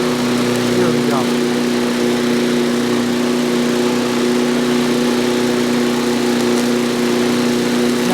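A John Deere JS63C zero turn mower runs steadily close by, its engine holding a constant droning hum with no pauses across the stretch.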